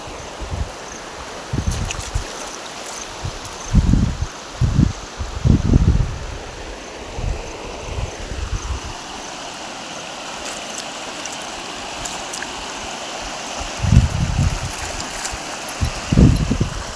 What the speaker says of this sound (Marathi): खूप जास्त पाणी आलेलं आहे